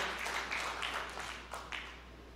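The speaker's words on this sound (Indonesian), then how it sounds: "Berikan tepuk tangan yang meriah buat Tuhan" A church congregation claps together in a soft, diffuse wash of applause, steady and somewhat distant, with a few sharper claps near the end and no voices on top.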